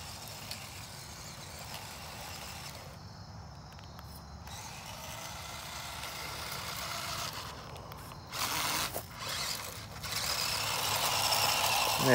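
A 1/12 scale RC dual-motor Unimog truck running in high gear gives a steady, fairly quiet motor drone with a few brief dropouts, growing louder and rougher toward the end.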